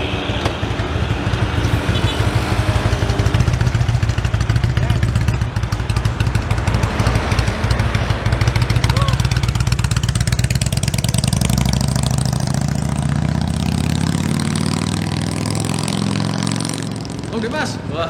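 A Harley-Davidson motorcycle engine idles steadily after carburetor service, a loud, continuous low rumble that runs throughout, with voices talking over it.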